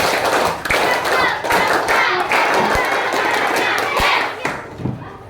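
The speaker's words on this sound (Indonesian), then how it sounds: "Oke, 2 kali tepuk pramuka." A classroom group performs the Indonesian scout clap twice, sharp rhythmic hand claps in patterned bursts with a few shouts mixed in.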